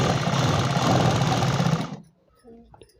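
A sewing machine stitches petticoat panels together in a steady, loud, close mechanical whir for about two seconds, then stops abruptly, leaving faint handling sounds.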